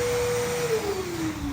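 A wet and dry vacuum cleaner runs in blower mode, giving a steady, loud, continuous motor whine with a slowly falling pitch. No one talks over it.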